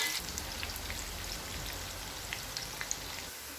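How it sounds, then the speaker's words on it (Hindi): Chopped onion frying in hot oil for keema biryani, a steady, soft crackling hiss with scattered faint pops throughout, no voices. "फ्राई कर लेंगे प्याज को 1 से 2 मिनट तक।"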